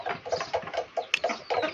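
Leghorn chickens outdoors give short clucking calls in a steady, bouncing rhythm, several per second, fairly close and clear with no talk over them.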